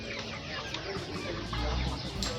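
Chickens cluck together in a coop ahead of a fowlpox vaccination, their busy, overlapping calls forming a steady noisy background with no clear individual call standing out.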